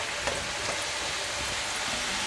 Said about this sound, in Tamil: இதே நம்ம வந்து பிஸ்கட் மாதிரி எண்ணெயில் போட்டுடலாம்